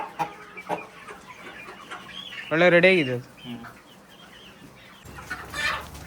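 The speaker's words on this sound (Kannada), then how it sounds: "ನಮ್ಮೂರಲ್ಲಿ ಒಂದು ಸಣ್ಣ ಕೋಳಿ ಸಾಕಾಣಿಕೆಯನ್ನು ಮಾಡಿ ಸುಮಾರು ಈಗ 300 ಕೋಳಿ ಹತ್ರ ತಂದು ಇಲ್ಲಿ ಸಾಕಿದ್ದಾರೆ ನೋಡಿ" Native country chickens on a small farm of about 300 birds at Bailur cluck sporadically, with one louder drawn-out call in the middle, as someone speaks briefly nearby.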